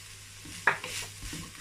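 Garlic powder and Aromat seasoning stirred into chicken pie filling, a brief soft scrape with one sharper clink, short and fairly quiet.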